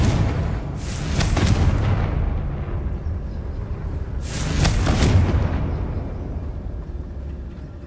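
Two booming blasts from the Confringo fire-blasting spell in the video game Hogwarts Legacy, a few seconds apart, each a sharp crackling burst trailing into a rumbling decay, close and loud with no voices.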